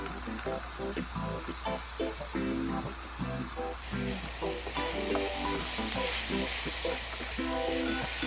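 Mushrooms and walnuts sizzle and fry steadily in a pan, a close continuous crackle with repeated scraping stir strokes, loud throughout with no voices.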